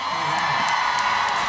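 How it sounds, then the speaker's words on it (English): Convention panel audience at New York Comic Con 2021 cheering and whooping in a loud, steady wash of crowd noise that fills the whole moment. "Please give a loud applause for John Bell"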